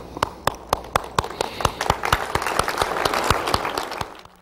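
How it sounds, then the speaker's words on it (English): Applause for military personnel, with loud, steady, evenly spaced claps up close over a broader patter of clapping that builds slightly toward the end. "one of the reasons I wanted to come here was to applaud you, so let me do that now"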